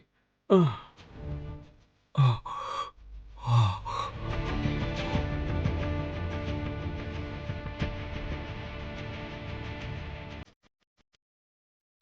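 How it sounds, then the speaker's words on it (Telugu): A man gasps and sighs repeatedly in breathlessness, a few sharp heavy breaths followed by a long, strained, continuous wheezing exhale, close and alone. "అది మీకు ఆయాసం వచ్చినట్టుంది"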